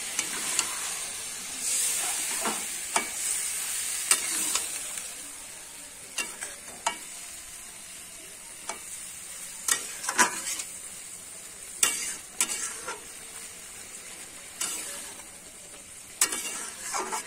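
Water splashed into a hot pan of potatoes and long beans sets off a loud hissing sizzle, followed by repeated sharp scrapes and clinks of a spatula stirring the vegetables, close by with no talk.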